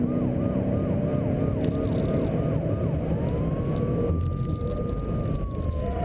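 A 2013 Dodge Charger Police Pursuit Package with a Hemi engine drives at speed around a racetrack lap, its loud steady engine roar running under a wailing siren that shifts from rapid yelps to a long rising and falling tone.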